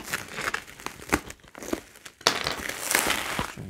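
Shipping packaging for a GamePower Ogre keyboard is torn open and handled up close, giving irregular bursts of crinkling and crackling plastic and paper, with a short lull midway and louder rustling afterward.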